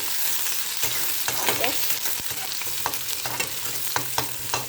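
Onions fry in a pan at home with a constant loud sizzle, while a utensil scrapes and taps against the pan in irregular strokes. No one speaks.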